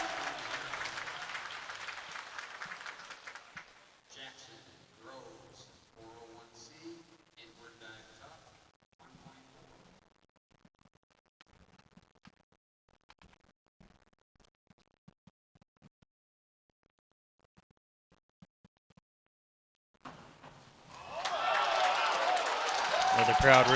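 Crowd at a high school boys swim and dive meet applauds a dive, a loud burst of clapping and cheering at the start that fades into quieter murmurs and scattered noises, then swells again loudly at the end.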